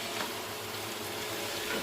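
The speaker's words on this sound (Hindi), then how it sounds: "धीमी आंच पर हम इसे आहिस्ता आहिस्ता भूनेंगे" Namkeen gosht meat frying slowly in a pot on a low flame, giving a soft, steady sizzle and crackle at low volume with no talk over it.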